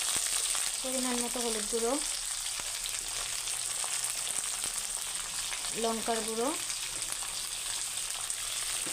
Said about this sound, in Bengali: সিমটা ভাজা ভাজা হয়ে গেছে